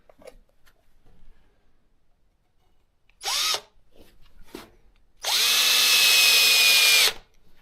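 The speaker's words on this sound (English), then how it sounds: "Put a couple of screws here." A power drill drives screws into wood on a farm, with a short whir followed by a longer sustained run of about two seconds, loud and close, with quiet handling noise in between.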